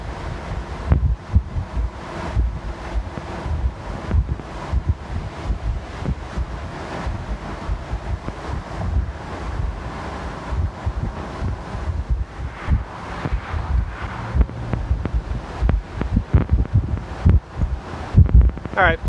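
Steady wind buffeting and road roar fill a Gen6 Camaro convertible cruising at 50 mph with the top down, a dense continuous rumble with gusting texture throughout and no voices.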